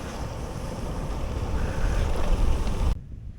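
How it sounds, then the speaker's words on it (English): Loud, steady wind roars across the microphone during a gravel bike ride through Australian rainforest, swelling slightly before cutting off abruptly near the end. "you come around some of these corners and the noise of the wind, it's just amazingly loud"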